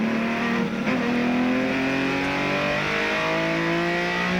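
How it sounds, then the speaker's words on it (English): A BMW race car at the 1983 Bathurst 1000 powering hard, its engine holding a loud, continuous high-revving drone with rising pitch throughout, heard from close by without any voices over it. "the car is back and powering"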